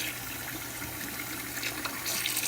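Running water poured while rinsing plastic sprues from a Revell 1:48 F4U-4 Corsair model kit, a steady close splashing flow that grows a little louder near the end.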